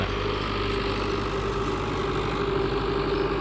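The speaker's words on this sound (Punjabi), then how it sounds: "ਰੇਤਲੀ ਪੈਲੀ ਆ ਤੇ ਟਰੈਕਟਰ ਨੂੰ ਪਰਵਾਹ ਹੀ ਨਹੀਂ, ਹਲ ਵਖਦੇ ਪਏ ਨੇ" A tractor engine runs steadily while pulling a 13-tine plough through a sandy field, a constant loud mid-to-low throb up close with no talk.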